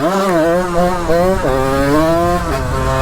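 A moped with a 75cc big-bore kit revs hard while riding, a loud buzzing two-stroke whine that rises, dips briefly and climbs again through the gear, close and continuous with no break.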